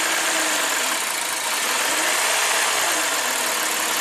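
A 2015 Lexus IS250 V6 idling at an abnormally high speed, around 2,100 RPM, gives a steady, continuous engine drone with a dense, hissy upper layer. It stays close and even throughout, with no speech.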